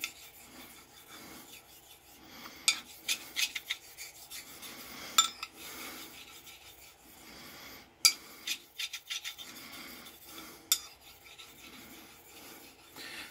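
A blade is honed on a stone to remove 1,000 grit scratches. The strokes are soft, repeated and rasping, with a few sharper scrapes and taps, close and fairly quiet.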